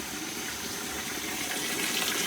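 Water flows steadily in a dense jungle setting, a broad, constant rushing wash that fills the whole short stretch without pause, close and even.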